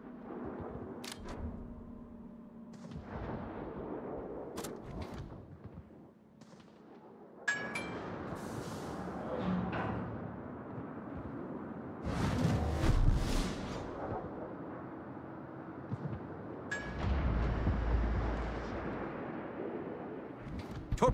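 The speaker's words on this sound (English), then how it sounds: "Concentrate fire on the enemy warship." Warship guns fire at an enemy ship in the World of Warships video game. Several heavy booming salvos come at irregular intervals, with rumbling blasts and sharp cracks over a low engine hum.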